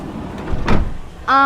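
A door on a 2017 Toyota Commuter 3.0 van swings shut with one solid, close thud partway through, set against quiet background noise, followed by a steady tonal hum.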